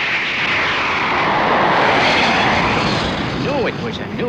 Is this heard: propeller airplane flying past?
yes